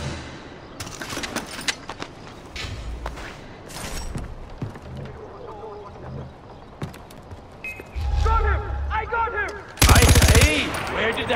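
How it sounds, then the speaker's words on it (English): Gunfire in the video game Far Cry 4: scattered single shots and short bursts over game ambience, ending in a loud close burst of machine-gun fire, with speech-like game audio in between. "Where did that shot come from?"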